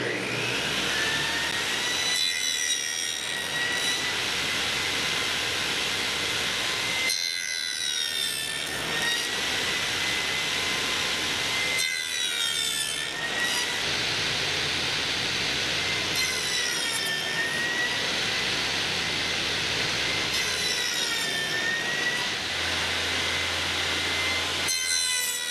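A saw cuts wood held in a jig while a wooden box is being made. Repeated loud rasping cutting runs are separated by short pauses, close by and with nobody talking.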